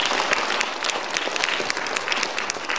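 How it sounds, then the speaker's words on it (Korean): An audience claps loudly at the opening ceremony of the 2022 Nogeun-ri International Peace Forum, a full, steady round of applause that fills the whole stretch with no speech over it. "큰 박수 부탁드리겠습니다."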